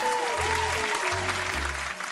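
Applause on a livestream, a steady dense wash of clapping filling the whole stretch, with low tonal music or hum underneath.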